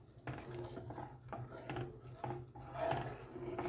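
A spoon stirs sugar in a pan for milk kolukkattai, making quiet scraping and rubbing strokes with occasional light knocks against the metal, close by and fairly faint.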